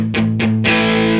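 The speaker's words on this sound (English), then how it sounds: "That's like a distortion, overdrivey kind of thing." Electric guitar played through a Bleak District Terra overdrive pedal: two short distorted stabs followed by a sustained, buzzy overdriven chord ringing out loud and close, with no talking.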